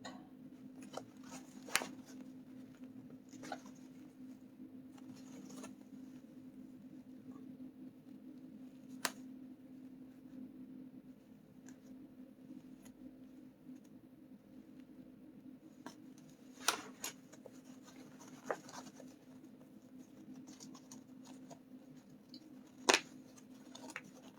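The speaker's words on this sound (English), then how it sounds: "So I'm going to snip." Scissors snipping fabric while sewing a garment, a series of sharp, crisp cuts spaced irregularly over a quiet background hum, close and fairly faint, with no talking.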